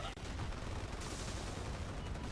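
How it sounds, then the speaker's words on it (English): Dense, rumbling artillery fire from the real-time strategy game Forged Battalion, a continuous noisy barrage with a sharp break near the start, loud and unbroken throughout. "Artillery spam!"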